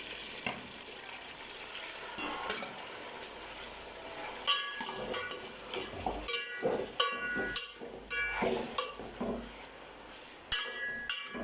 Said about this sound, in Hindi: तेल जो हमारा वो हो गया बहुत ज़्यादा गर्म। अब इसमें शामिल करेंगे हम अपना गोश्त।